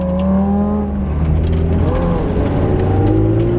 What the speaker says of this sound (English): That V10 sounds so good.